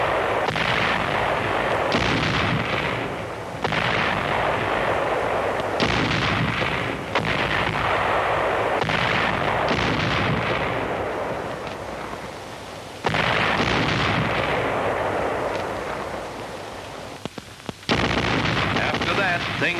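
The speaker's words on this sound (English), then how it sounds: "a high-trajectory artillery duel was on" A dense wartime artillery duel: continuous heavy cannon fire and explosions blend into a loud, unbroken roar, with sharper blasts and abrupt shifts throughout.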